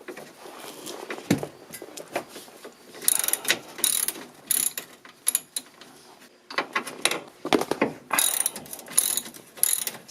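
Hand ratchet loosening the front sway bar mount bolts on a Mazda Miata MX-5, rapid pawl clicks in repeated bursts with short pauses between strokes, close and clear with no talking.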